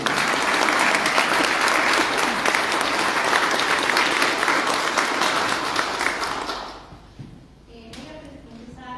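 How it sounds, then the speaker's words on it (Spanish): A book presentation audience breaks into dense, steady applause for Graciela that carries for several seconds before dying away, leaving a voice speaking at the end. "otro aplauso para Graciela"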